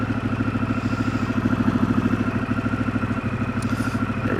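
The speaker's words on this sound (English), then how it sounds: "Fire this motorcycle up." A custom Harley-Davidson Pan America Special motorcycle engine runs at a steady idle with an even, rapid pulsing throb, close and loud, with no voices.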